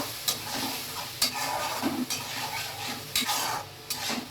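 A spice mixture for a cauliflower curry sautés in a pan under a steady sizzle, broken by repeated scraping stirs and light metallic clicks of a spoon against the pan, near and clear.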